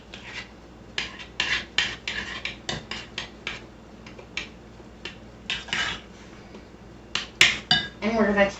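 A utensil scrapes and stirs green onion and parsley through a pan of leftover deli fried chicken, a series of rhythmic rasping strokes with a few sharper clinks near the end.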